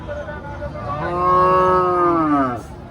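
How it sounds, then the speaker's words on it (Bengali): A single long, loud moo from a Friesian cow at a cattle market, rising and swelling over a couple of seconds, close by, with faint background murmur. "আপনারা দেখতে পাচ্ছেন অনেক সুন্দর একটি গরু।"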